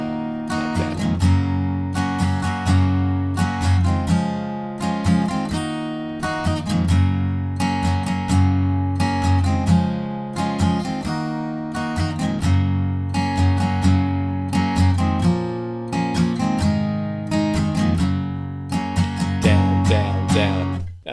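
Acoustic guitar strumming a chorus, with steady, full downstrokes ringing in a continuous rhythmic pattern, played alone and close without any talking.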